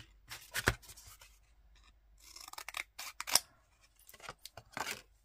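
Scissors snip paper for a scrapbook mini album in a series of sharp, irregular cuts, close and crisp, separated by short quiet pauses, with no talk.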